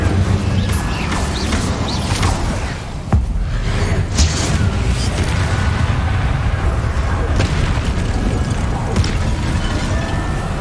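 Incendio fire spell cast during combat in the video game Hogwarts Legacy, with whooshing fiery bursts and sharp impact booms layered over dense, loud battle noise.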